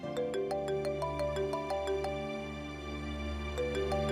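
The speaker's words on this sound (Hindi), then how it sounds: "उठाओ फोन।" A phone rings with a repeating melodic electronic ringtone, steady pulsing notes over a low background hum, in a domestic indoor scene; no one speaks.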